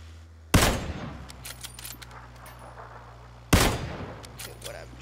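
Two loud gunshots ring out in PlayerUnknown's Battlegrounds, a few seconds apart, each sharp crack trailing off into reverberant echo over quiet background hum.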